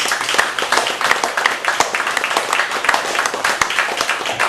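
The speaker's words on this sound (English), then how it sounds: "Do one more applause count" Audience applause at a live poetry, prose and music performance in a Chicago cafe, a dense steady patter of many hands clapping throughout, moderately loud with no voices over it.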